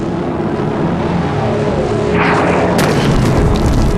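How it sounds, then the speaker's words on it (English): Wartime aerial attack by Stuka dive bombers: a continuous heavy rumble swells into a deep boom around the midpoint, followed by a sharp, loud blast and crackling debris near the end. "Stuka dive bombers carried out their deadly work with impunity"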